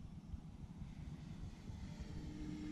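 Electric-motor Superstar RC aerobatic model airplane flying overhead, a steady, moderately loud whirring drone that holds constant with no talk over it.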